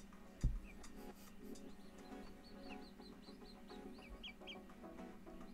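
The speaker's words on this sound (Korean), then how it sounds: "병아리 한 달 된 닭, 닭이에요." A one-month-old chick clucking and peeping indoors, a few soft chirps scattered over a quiet room hum, with one brief thump near the start.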